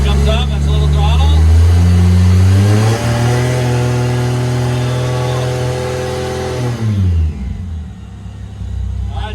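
A Datsun drag car engine revs under throttle, giving loud, close, rising and falling mechanical roars that climb in pitch, hold, then drop away near the end.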